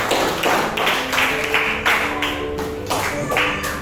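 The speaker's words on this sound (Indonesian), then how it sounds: "tepuk tangan untuk kita semuanya" A classroom of students claps together on cue, a bright burst of hand claps in uneven rhythmic bursts, close and loud, with a few voices mixed in.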